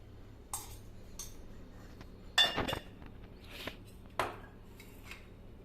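A spoon scoops tea powder and sugar into a container while tea is made at home, giving a few light, sparse clinks and scrapes against a quiet background.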